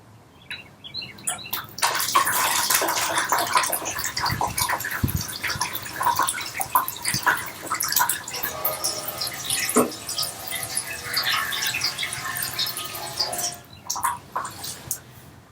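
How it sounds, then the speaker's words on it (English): Water pours from a watering can in a steady splashing, trickling stream that runs for most of the stretch, fairly close and loud, with brief gentle drips as the flow starts and tails off. "it was water from my watering can"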